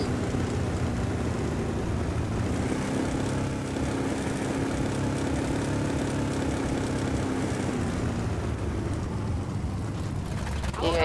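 A loud unmuffled car engine in a South Carolina roleplay driving game drones at a steady roar for the whole stretch, close and continuous, with some speech mixed in.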